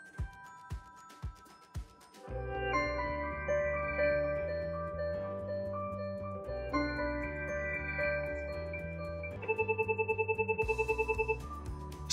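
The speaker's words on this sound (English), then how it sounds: "Highlight the desired ringtone and press the Play Soft key to sample it." A Cisco 8845 desk phone plays a ringtone sample: a few sharp plucked notes lead into a looping electronic melody with steady chords, then a rapid repeating high trill near the end.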